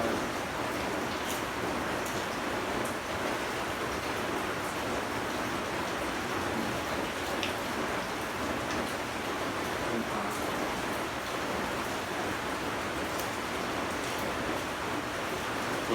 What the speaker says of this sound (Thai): ฝนตกแบบนี้